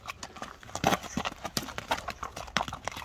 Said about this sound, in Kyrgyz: Бул атты азыр сиздерге ушул таш жолдон аттын чуркагандарын тартып көрсөтөбүз.